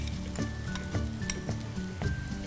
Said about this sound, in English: And next I'm going to add the onions.